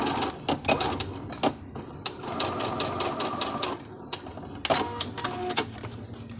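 A sewing machine stitches the side of a scallop-waist skirt in quick, rattling runs broken by brief pauses, close and moderately loud.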